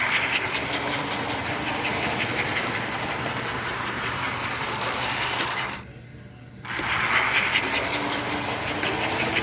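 A 302 AC/DC Atlantic model locomotive runs steadily on a small track, giving a continuous close mechanical whir and hiss that drops away briefly for about a second before resuming.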